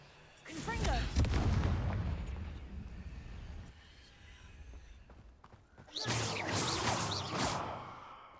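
Confringo fire spell blasting in Hogwarts Legacy, a booming fiery burst with a rumbling tail, followed a few seconds later by a second loud burst.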